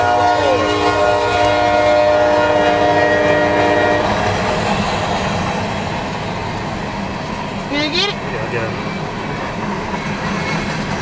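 An empty northbound CSX coal train rumbles loudly past at close range with a droning horn at first, then steady rolling wheel noise. A voice is heard briefly.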